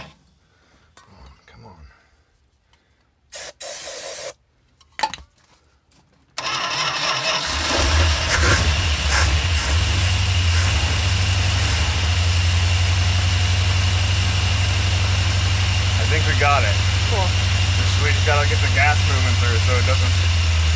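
A bus with a 440 engine cranks and fires up after a few seconds of near silence, then settles into a steady, loud, rumbling idle outdoors in the cold.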